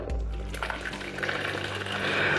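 Boiling hot water pours into a vat for making yogurt, a steady close splashing and gushing that keeps running for about two seconds with no pause.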